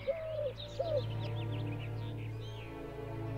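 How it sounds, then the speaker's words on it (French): A turtle dove perched in an old beech in a forest gives two soft, mournful coos, with faint chirps from other birds behind. "tandis qu'une tourterelle roucoulait plaintivement"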